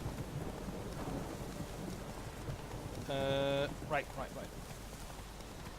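Rain and stormy weather in The Witcher 3, a steady wash of rainfall with low rumbling throughout, broken by a brief tonal game sound and short voiced bursts near the middle.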